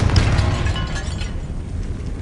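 A Confringo fire spell explodes in Hogwarts Legacy as a loud, dense blast. Its rumbling roar fills the whole moment and slowly fades, with no talking.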